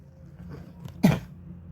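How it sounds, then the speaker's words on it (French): A woman with a cold gives a single sharp cough, close and fairly loud, after a quiet stretch of low background hum. "excusez-moi pour la toux, mais je me suis enrhumée"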